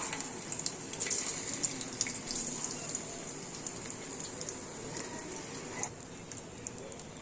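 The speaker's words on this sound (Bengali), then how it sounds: "আজকে নিরামিষ পনিরগুলোকে প্রথমে ভেজে নেব। এটা ঘিয়ে করছি, ঘিটা গরম হয়ে গেছে।" Paneer fries in hot ghee, giving a steady close sizzle with fine crackling and spitting that eases slightly toward the end.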